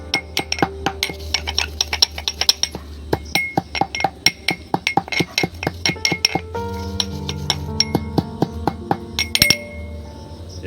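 Spices pounded in a mortar and pestle for a potato chaat recipe: a steady series of sharp, ringing strikes close by, some slightly irregular in rhythm, with clinks of stone or metal and no talk.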